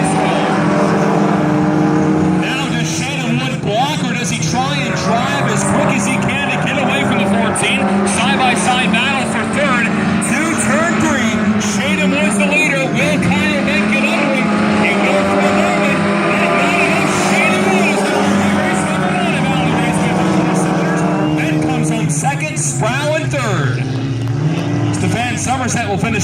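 Four-cylinder class race cars in a heat race at Valley Raceway, a dirt track, roar continuously as a pack of engines, loud and sustained throughout, with an announcer calling the action over the noise.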